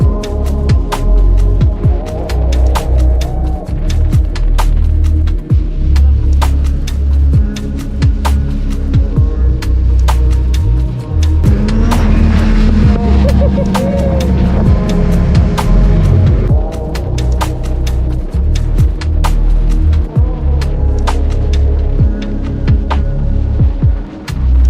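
A motorcycle rides down a road at night, its engine a continuous throbbing drone with rising and falling tones under steady wind rush, loud and close throughout.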